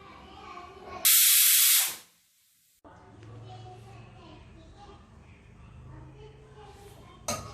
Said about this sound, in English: Now wait for a one whistle.